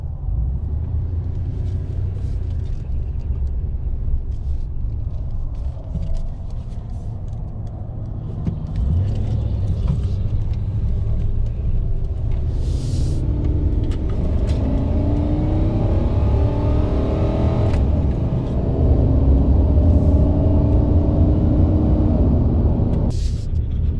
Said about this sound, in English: It's been a while since we took a ride in the truck